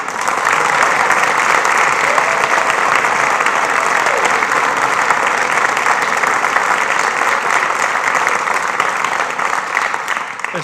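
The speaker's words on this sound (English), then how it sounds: "I'd also like to ask you to give a round of applause to our 5 student speakers." At a school district hall of fame ceremony, a large audience applauds the student speakers with loud, continuous clapping that stays steady for about ten seconds.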